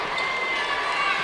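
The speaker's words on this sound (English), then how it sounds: "crowd taking in the action here at Murphy Center." Basketball crowd at Murphy Center during a high school boys' state semifinal, a steady dense murmur of many voices filling the arena throughout.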